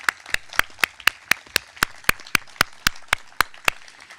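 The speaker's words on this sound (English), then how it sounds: "Please give them a round of applause for all that they've done for our school community" Clapping at the St. Anne School 2021 graduation ceremony: a steady run of sharp, evenly spaced claps, close and fairly loud, with no voices over them.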